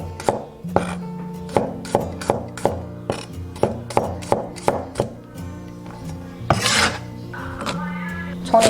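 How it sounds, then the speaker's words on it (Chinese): A knife slices garlic cloves on a cutting board in a run of sharp, evenly spaced chops close by, followed by a brief scrape and clatter of the blade against the board. "几颗大蒜切片"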